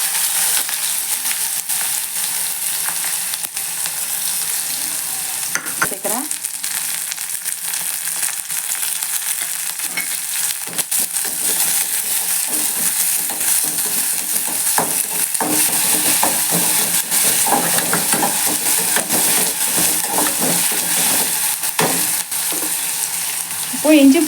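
Onions and cumin seeds fry in oil in a pan, giving a loud, steady sizzle with occasional stirring scrapes throughout, no talking.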